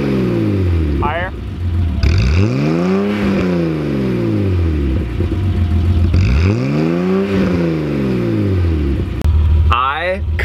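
1989 BMW E30 325ix engine revving through a new muffler, two rising and falling rev sweeps with a deep exhaust rumble between them at close range, and voices talking around the revs.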